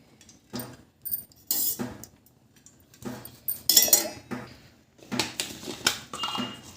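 Metal clanks and clinks of a wok set on a stove, then three spoons of oil added, with a few scrapes and taps spaced out over several seconds, close by.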